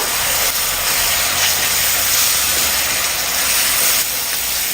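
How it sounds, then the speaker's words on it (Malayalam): Crushed shallots dropped into chili powder frying in hot oil and stirred, giving a loud, steady hiss and steam-like sizzle that holds throughout with no voices. "ഇനി ഇതിലേക്ക് ഉടച്ച് വെച്ച് ഉള്ളി ചേർത്ത് കൊടുക്കാം. ഒന്ന് ഇളക്കി കൊടുക്കുക."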